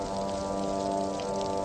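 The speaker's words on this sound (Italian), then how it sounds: "una notte di pioggia, un'altra notte di pioggia" Steady rain falls at night, a continuous, even hiss of drops with a soft low hum beneath, unchanging throughout the short stretch.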